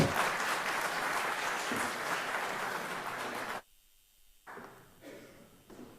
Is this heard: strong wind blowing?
no